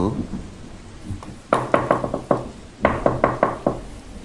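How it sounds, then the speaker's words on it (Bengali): Knocking on a door at night during a storm, as a sound effect in an audio drama. There are two clear sets of sharp knocks, four to five raps each, over a low rumble of rain. "এত রাত্রে আবার কে দরজায় নক করছে"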